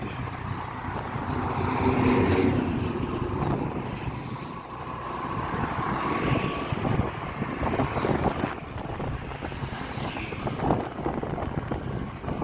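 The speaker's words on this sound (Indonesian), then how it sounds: "Kalau naik motor gini enak, bisa ngelipir-ngelipir meskipun panas." Riding a motorbike along a village road under repair in a Minang countryside area on a hot day, with continuous buffeting wind noise and a steady engine rumble throughout, close and fairly loud.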